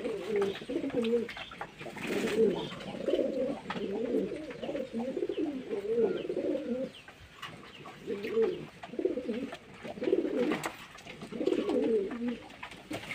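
Pigeons coo repeatedly inside a loft during moulting season, a steady chorus of overlapping low, throaty calls in rhythmic bursts, fairly close with no talking.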